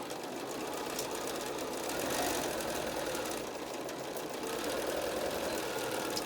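A sewing machine stitches along the lining side of a fitted fabric mask with a pocket, a continuous close mechanical whir and rapid chatter that rises and dips slightly in speed without stopping.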